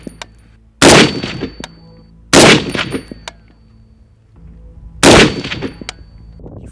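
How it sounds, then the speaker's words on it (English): Three loud M21 sniper rifle shots firing Federal Gold Medal Match ammunition at a 100-yard range, each a sharp crack with a brief echoing tail, spaced a couple of seconds apart. "we're going to be shooting. We're at 100 yards right now, and we're going to be grouping using federal gold medal match"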